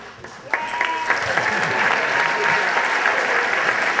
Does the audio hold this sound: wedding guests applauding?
yes